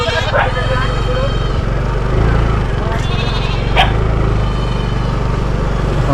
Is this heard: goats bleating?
yes